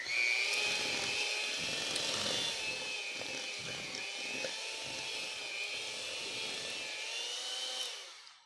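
An electric mixer whirs steadily as its beaters work cinnamon roll dough in a bowl, a continuous high motor whine that runs for several seconds and then cuts off, close by with no talk.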